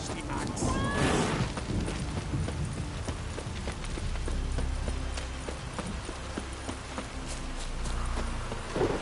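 Horse hooves clip-clopping at a steady walking pace in The Witcher 3, with a brief whinny near the start and game music and ambience running underneath.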